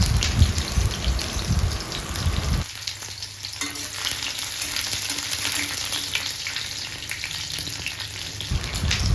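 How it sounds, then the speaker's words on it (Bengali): Crushed garlic and dried red chillies sizzle and fry steadily in hot oil in a pan, a loud, continuous crackling hiss with a brief stirring scrape, close up with no talking. "এরপর আমি এই তেলের মধ্যেই দিয়ে দিচ্ছি থেতো করে রাখা রসুন।"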